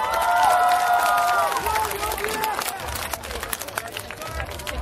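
Audience applause and cheering at the Shanghai Strawberry Music Festival, a broad crowd roar with clapping behind amplified tones and a voice at the start, tapering to scattered claps.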